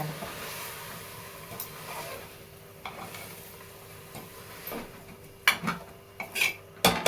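Green moong dal sautés in a pan for khichdi, a soft sizzle running under repeated stirring scrapes and clinks of a spoon against the metal, growing louder and busier toward the end; no voices.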